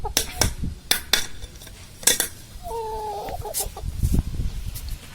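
Country hens cluck while pecking at small onions, with short clucking calls in the middle and sharp clicks and clatter from beaks striking a dish scattered throughout, close by.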